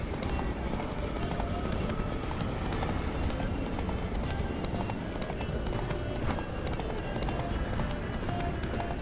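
Galloping horse hooves in The Witcher 3: Wild Hunt, a steady rapid clip-clop running continuously and loud throughout, with a dense bed of game sound and occasional voices beneath it.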